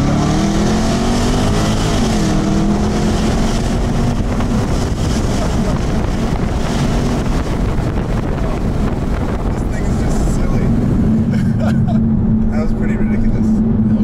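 A Jaguar F-Type SVR engine roars loudly with its exhaust open over rushing wind and road noise, its pitch rising as it accelerates, with a person talking over it.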